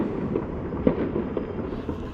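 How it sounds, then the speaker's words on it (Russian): Fireworks going off outdoors on New Year's Eve, a dense, continuous rumble of distant bursts with a few sharper pops standing out, steady and moderately loud throughout. "Firework."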